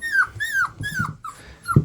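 Puppies whimper and yip inside a kennel, a series of four or five thin, rising-then-falling whines close by, ending with a brief low scuffle.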